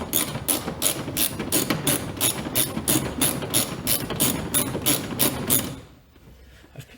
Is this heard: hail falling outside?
no